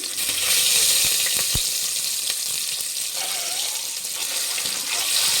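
Egg pieces frying in a pan of oil for egg biryani, a steady soft sizzle with a couple of sharp pops or clinks near the start.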